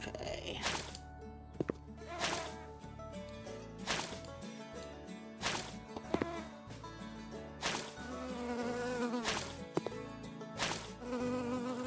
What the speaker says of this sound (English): And I'm guessing we got flies in there. That's why I'm hearing all this buzzing.